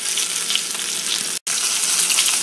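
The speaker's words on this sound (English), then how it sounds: "we've got the leg portions in the frying pan" Dense, steady sizzling of chicken leg portions frying in a pan, broken by one brief dropout midway, with no voices.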